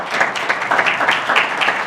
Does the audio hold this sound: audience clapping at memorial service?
yes